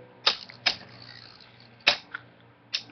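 Beyblade spinning tops in a tournament battle strike each other in a few sharp, separate clacks, with a brief rattle between the hits. The impacts are close and fairly quiet.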